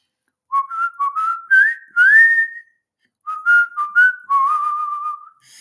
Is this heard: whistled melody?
yes